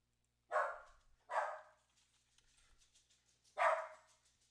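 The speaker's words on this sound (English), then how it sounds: "You stop that barking." A pet dog indoors gives three sharp, loud barks, two in quick succession and a third after a pause, each standing alone against near silence.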